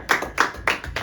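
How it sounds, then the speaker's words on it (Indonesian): Audience at a campus talk show clapping in unison, four sharp rhythmic bursts of hand claps close and fairly loud, with no voices over them. "Tepuk dong."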